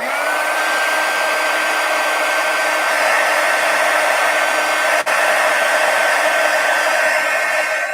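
A hair dryer blows steadily on the edge of an art book page, a loud continuous whine and rush of air close by, with one brief dip partway through.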